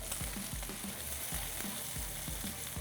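Bacon sizzles and crackles steadily in a skillet over medium heat, a dense continuous frying hiss with rhythmic low thumps of stirring or scraping underneath, close and fairly loud.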